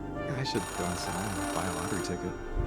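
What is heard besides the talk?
payphone ringing, from the video game Oxenfree II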